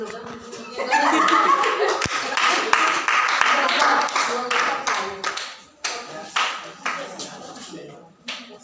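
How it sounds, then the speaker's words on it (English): A class applauding a student in a pharmaceutical calculations lesson, a burst of mixed clapping with laughter and chatter, then tapering into scattered individual claps. "Doesn't she deserve an applause?"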